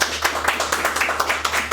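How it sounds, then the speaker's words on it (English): A small audience at a maker lab claps for a new vinyl-cutting officer, the individual hand claps close and distinct in a quick, uneven rhythm. "everyone give her a round of applause"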